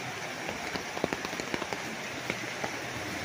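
Rain pattering on a rural farm lot beside a river, a steady wash of drops with scattered louder taps and splashes throughout, moderately near and fairly quiet, with no talking.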